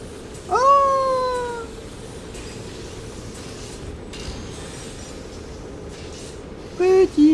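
A cat in a video game meows twice, with a clear, drawn-out meow near the start and two short, higher mews at the end, over a quiet background hiss.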